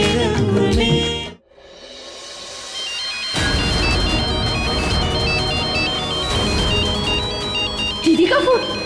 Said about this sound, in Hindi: दीदी का फोन।